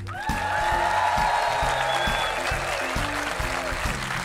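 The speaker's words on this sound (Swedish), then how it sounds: "ge en varm, skön sån här välkomstapplåd" Loud, sustained welcome applause from a large outdoor audience at the 2011 Gränna sing-along, dense clapping filling the whole stretch with steady intensity.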